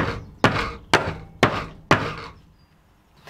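A cold process soap mould is banged down on a hard surface to level the batter, giving four sharp, evenly spaced thunks close by with short decays, then quiet.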